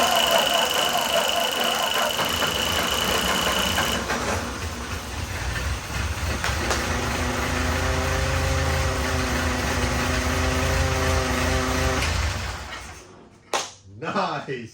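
An abandoned 1949 Ford 8N tractor engine, with two-stroke mixed into its fuel, runs loud and rough up close, its speed rising and settling, then cuts out near the end with a few sputters.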